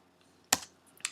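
Keys tapped on a computer keyboard while entering a calculation, two or three quick crisp clicks close to the microphone in an otherwise quiet room.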